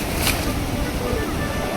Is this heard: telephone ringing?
no